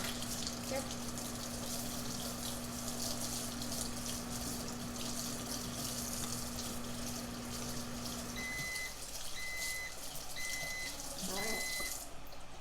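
A tap runs in a steady stream during handwashing, continuous and fairly close, with brief speech and a few short beeps near the end.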